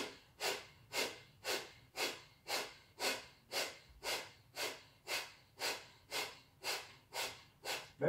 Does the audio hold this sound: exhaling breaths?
yes